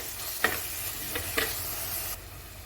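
Masala sizzles softly while being stirred in coconut oil in a pan for a sardine curry, a steady low frying hiss broken by a few light scraping stir strokes.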